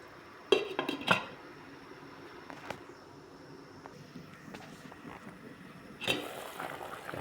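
A lid goes back onto a cooking pot of tilapia soup with moringa leaves, giving a few close metallic clinks and clatters at the start, then a quiet stretch and another clatter near the end.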